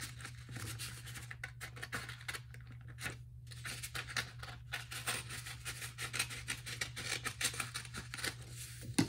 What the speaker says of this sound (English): Now I'll grab my handy dandy scissors and cut off that rectangle.